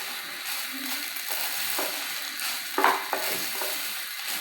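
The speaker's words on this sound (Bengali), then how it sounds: "এভাবে একটু ভেজে নেবেন 2-3 মিনিট, তবে সুন্দর হবে, পোলাও ঝরঝরা হবে।" Rice frying in a pan for carrot pulao, stirred with a spoon: a steady soft sizzle with scraping strokes and a louder scrape near the end, close by, no talking.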